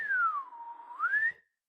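A single clear whistle glides down and then back up in one smooth sweep. It lasts about a second and a half, close and unaccompanied, then stops.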